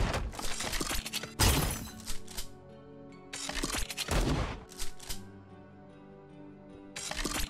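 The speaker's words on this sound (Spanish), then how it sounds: "usa la escopeta para remover la basura del salón principal" Shotgun blasts in the game Priest Simulator, clearing trash from a main hall: several loud, sharp booms come in bursts, some with rattling debris, separated by quieter gaps.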